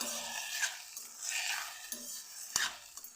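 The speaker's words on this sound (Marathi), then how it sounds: "याला पण छान परतवून घेते मी अशा प्रकारे" Eggplant bharit being sautéed and stirred in a pan, with a spoon scraping and clinking against the metal in irregular strokes over a soft, steady sizzle, close by and with no voices.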